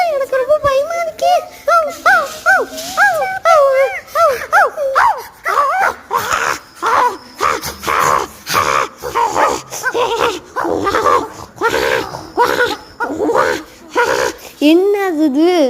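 A dog barks, yips and whimpers loudly and repeatedly in short bursts close by, over a voice talking through much of it.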